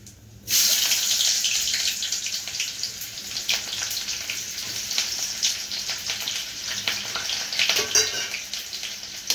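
Kachori frying in very hot oil for a homemade market-style daal khasta kachori, a loud, steady hissing sizzle that starts abruptly and continues unbroken with crackling bursts.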